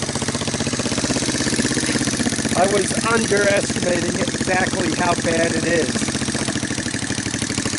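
Rusty 1985 Honda Big Red 250ES ATC with shaky wiring, its engine running at a steady close idle with a continuous buzzing drone while someone talks over it.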